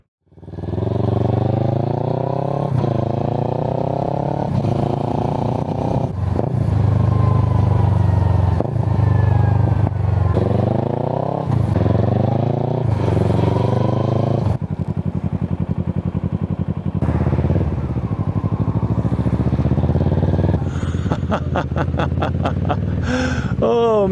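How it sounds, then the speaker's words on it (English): Kawasaki Versys 650 motorcycle with a Hurric Rac1 exhaust and the baffles removed, riding on the road: a loud, raspy engine rising and falling through repeated revs and gear changes, close to the microphone, with a rider talking over it. "why don't you join future me as we try out the bike with the baffles out"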